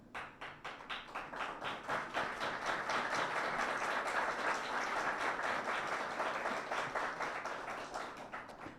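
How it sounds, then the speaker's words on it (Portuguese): An audience applauds steadily, a dense patter of many hands clapping that swells and then tapers slightly, heard from some distance. "Obrigado pelas palmas, que me envaidecem de sobremaneira."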